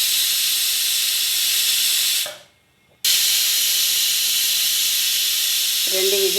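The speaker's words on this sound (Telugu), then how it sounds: "రెండు విజిల్ సరిపోతుందండి." A pressure cooker cooking masoor dal with tomatoes and drumstick leaves vents steam in a loud, steady hiss. The hiss cuts out briefly, then resumes at full strength, and a short tonal sound comes near the end.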